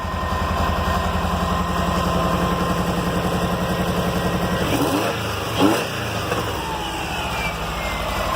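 A dune buggy engine idles with a low, even rumble, then briefly lurches and sputters midway before settling back into a continuous idle.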